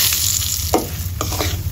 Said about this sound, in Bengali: তেলের ভিতরে সুজিটাকে আমি ভেজে নেব।